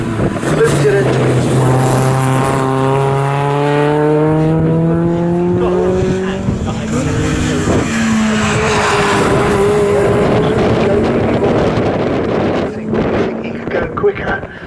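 Classic VW Cup and Honda VTEC Challenge race cars lapping Snetterton circuit, engines wailing loud and close with rising and falling revs as cars pass and shift, a commentator talking over the racing throughout.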